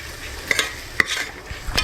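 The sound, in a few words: stirring vegetables and masala in a pan for pulao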